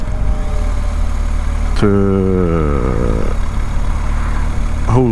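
A BMW 1250 GS motorcycle engine runs steadily while riding, its low drone rising with a clear gear-like whine that climbs then settles, another rising note starting at the end, under steady wind noise.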